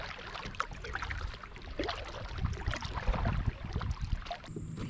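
A canoe or kayak is paddled on water near a cranberry bog preserve in Ohio, giving steady close splashing and dripping strokes under a constant wash of wind, with no talking.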